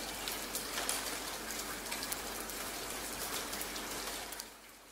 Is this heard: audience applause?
no